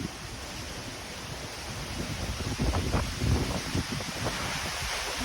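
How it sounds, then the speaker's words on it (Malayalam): A strong evening windstorm roars in gusts, buffeting the microphone with a steady, loud rush that swells in the middle, with no voices heard. "കാറ്റ് വരുന്നുണ്ട്."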